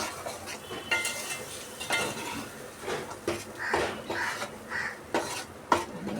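A spoon scrapes and stirs spices into a fish gravy in a pan with repeated clinks and scraping strokes, fairly close, with no talking.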